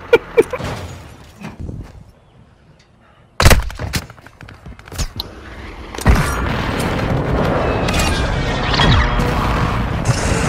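A grenade goes off in Call of Duty MW2 with one sudden heavy boom partway through, followed by lingering game noise and rumble, while scattered thumps and clicks come before it.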